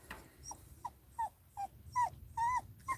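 A puppy whimpers close by in a string of short, high, rising whines, each a fraction of a second and coming in quick succession over a low background hum, with no talking.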